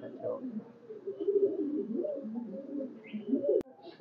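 Pigeons in a loft on a Khulna high-flyer pigeon farm with red-necked and white birds, giving low, soft continuous cooing close by, with a brief sharp click near the end.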